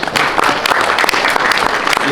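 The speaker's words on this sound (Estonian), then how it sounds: "Uno Aavale teeme aplausi." Audience at a racing circuit reunion gathering bursts into loud, dense applause, a continuous close patter of many hands clapping for the full two seconds.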